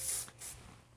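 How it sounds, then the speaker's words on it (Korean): Hair spray hisses from a can in two short bursts, the first longer and the second softer, close by in a quiet room. "이제 마지막으로 스프레이를 뿌려서 잔머리들을 정리해 줘야겠죠."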